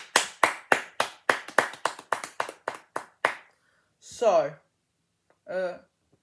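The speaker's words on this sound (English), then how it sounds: "So let's give a big clap." About a dozen sharp, evenly spaced hand claps from an audience at an athletics talk show, loud and close, slowing and fading over three seconds, followed by two brief vocal sounds.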